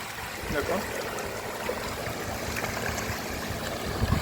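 Water falling from a fountain aerator into a plastic-lined fish pond in a desert fish farm in Saudi Arabia makes a continuous rushing splash, with muffled voices faintly mixed in.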